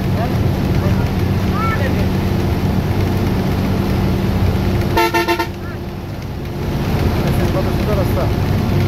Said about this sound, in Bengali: বাস থেকে ভিডিও করতেছি